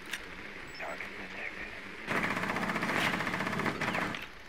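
Sustained automatic gunfire from Rainbow Six Siege, a video game, at first fainter and then a loud, steady rattling burst that runs for about two seconds before stopping.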